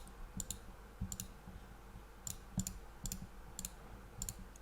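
A computer mouse clicks in quick pairs and singles, soft and close, spaced irregularly while selecting items at random in 3D modeling software, over a faint quiet room hiss.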